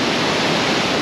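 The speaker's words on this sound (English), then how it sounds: "100-foot waterfall" A roaring 100-foot waterfall in Scotland gives off a loud, steady broadband rush, constant and close, with no voices.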